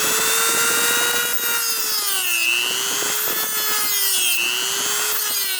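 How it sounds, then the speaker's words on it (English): Dremel rotary tool shaving down plastic vent cap parts on a Sprinter van roof, a steady high-pitched whine that dips briefly twice as it bites into the plastic, close and continuous with no talking. "right now I got the Dremel out and I am shaving these off"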